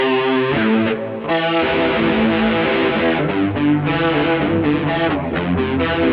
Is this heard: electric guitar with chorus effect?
yes